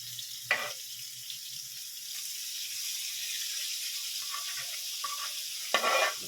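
Eggs for an omelette fry in a pan with a faint, steady hiss, with a few brief clinks and scrapes at the start and end, and no one talking.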